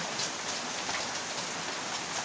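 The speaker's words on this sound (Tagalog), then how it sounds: "Sira ang trabaho natin sa bukid pag ganitong sobrang ulan." Heavy typhoon rain pours down near farm fields in a dense, steady hiss with no letup and no voices.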